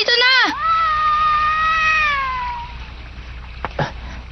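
A cat gives a loud, drawn-out meow with a rising then falling pitch, close to the mic, in a Tagalog-dubbed episode of The Adventures of Tom Sawyer. A couple of faint knocks follow in the background.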